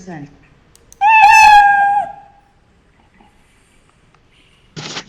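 A single drawn-out cat meow sound effect played in a computing class, loud and close, lasting about a second, followed by silence and a brief rustle at the end.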